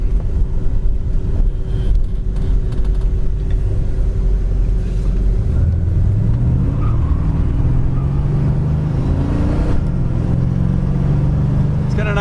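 A 1970 Ford Torino engine rumbles loudly and steadily, rising in pitch as it accelerates, with road and wind noise throughout.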